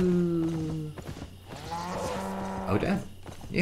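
A cow moos in the Albion Online video game, a drawn-out low call with a rising tonal sweep, heard fairly close with some faint background game noise.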